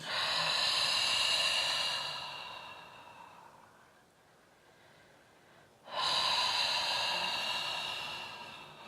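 Slow, deep breaths during a downward dog yoga pose: a long audible exhale, a quiet pause, then another breath, close and alone with no talking.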